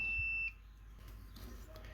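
A multimeter gives a continuity beep while testing a relay connector wire: a single clear high-pitched tone lasting about half a second, then cuts off to quiet room noise.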